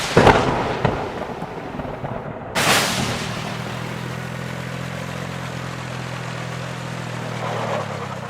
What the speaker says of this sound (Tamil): நீ குழி தோண்ட ஆரம்பிச்சோன்னே பயங்கரமாக இடி மின்னல் சத்தம்லாம் கேட்குது